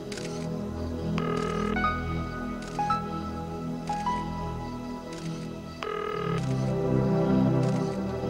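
Telephone dialing in the 1994 film Brainscan: a string of short electronic tones steps through different pitches, each set off by small clicks, fairly quiet over a low background hum.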